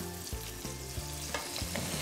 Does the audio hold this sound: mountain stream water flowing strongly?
no